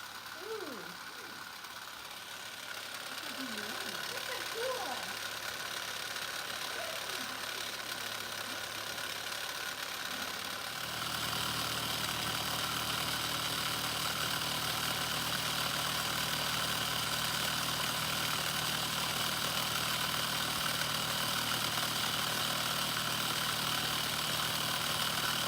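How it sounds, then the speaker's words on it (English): A Mamod SP2 model steam engine gives a steady mechanical chugging and hiss throughout, growing denser and louder partway through, with no voices over it. "The steam engine."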